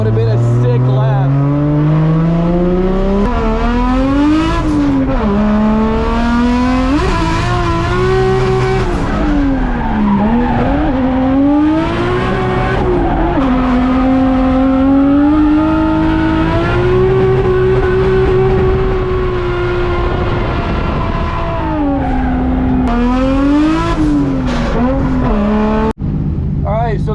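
Race car engine in a driving video game, revving hard and bouncing off the limiter at high RPM in fourth gear, with tire skids through the corners. It runs loud and steady for the whole stretch, and someone talks over it.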